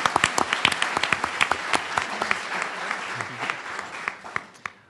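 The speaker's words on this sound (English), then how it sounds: "Let's have a round of applause" An audience at a university talk on homelessness breaks into a round of applause, with close, distinct individual claps standing out over a steady crowd wash that gradually thins.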